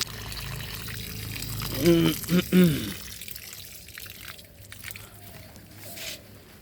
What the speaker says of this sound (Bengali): গাছটাকে একটু জল দিয়ে ধুইয়ে দিচ্ছি।